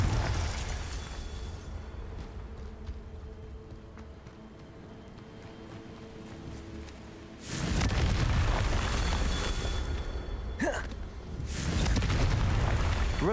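Fiery Confringo spell blasts from Hogwarts Legacy erupt as two loud, roaring explosive bursts, the second followed by a sharp crackle, after a quieter stretch of low magical ambience.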